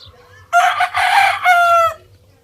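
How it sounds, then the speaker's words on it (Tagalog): A rooster in a backyard chicken coop gives a single loud, close crow lasting about a second and a half, with faint clucking underneath. "Ito po yung ating mga manukan, puno po ito yan"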